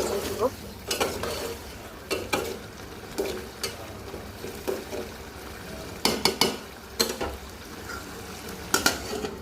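Bitter gourd and potato curry with fish cooking in a pot, the lid lifted and the contents stirred; repeated metallic scrapes and clanks of a spoon against the pot over a soft sizzle, close by.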